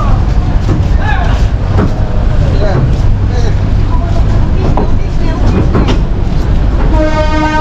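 A local train pulls out of Santahar railway junction, its loud rumble and rhythmic clatter of wheels filling the scene, with a horn sounding near the end and people talking over the noise.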